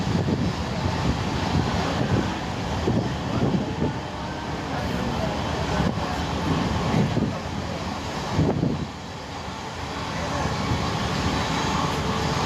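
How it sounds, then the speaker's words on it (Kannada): The Vijayapur Yeshwantpur Express, train 16548, picks up speed between Bagalkot and Gadag with a continuous rumbling roar and rhythmic clatter from onboard, swelling and easing with a brief dip near the end. "ಟ್ರೈನ್ನ ಸ್ಪೀಡ್ ಅಪ್ ಆಗ್ತಾ ಇದೆ ನೋಡಿ ಫ್ರೆಂಡ್ಸ್. ಟ್ರೈನ್ ಈಗ ಸ್ಪೀಡ್ ಹೋಗ್ತಾ ಇದೆ."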